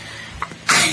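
A single sharp sneeze bursting out near the end, preceded by a brief small sniff.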